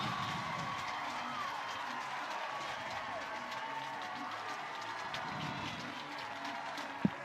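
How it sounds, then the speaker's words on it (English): Broad crowd noise fills a college softball stadium during an NCAA game between Oklahoma and Clemson after a sixth-inning base hit, a steady roar of cheering and clapping with a brief sharp knock near the end. "And here comes the crowd"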